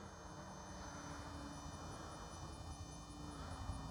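A Durafly Lucky Gallon RC plane flying past at an RC flying field, a faint steady engine drone with insect-like buzz and constant background noise, no voices.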